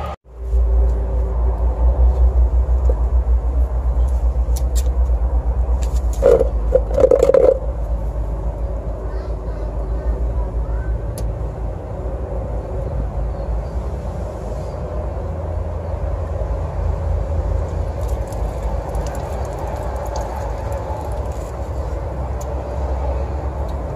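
Car engine idling while warming up after citric acid is added to the radiator coolant for flushing, a steady low rumble running throughout, with a brief louder burst of clatter early on.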